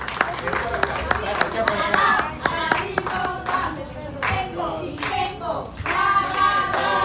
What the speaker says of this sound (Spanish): Que se escuche fuerte ese aplauso